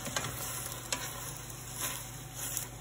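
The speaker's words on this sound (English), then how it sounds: "Give it a quick stir and you'll see how quickly this is gonna wilt down here." Arugula is stirred into a sizzling pan of tuna noodle casserole: a steady soft frying hiss with light clicks and scrapes of the utensil, close and fairly quiet, with no voices.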